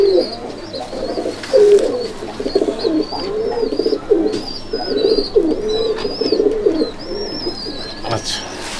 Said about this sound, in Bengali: এমনিতে দাদার কাছে তো প্রচুর পায়রা রয়েছে